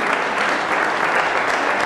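An audience at a sports talent awards gala applauds an award winner, with a short burst of dense, steady clapping at constant loudness.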